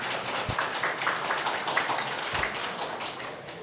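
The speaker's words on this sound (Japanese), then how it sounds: "拍手で皆さん拍手でお迎えください。" An audience at the PyCon JP 2022 conference claps to welcome a speaker, a steady dense patter of many hands with no talk.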